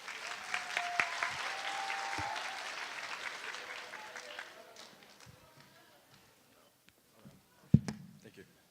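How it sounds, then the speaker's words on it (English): Audience applause at a Dallas school district read-in event, honoring board members; a steady crowd clapping that fades out over several seconds, followed by a few scattered knocks and thumps near the end. "Let's give another round of applause for our board members."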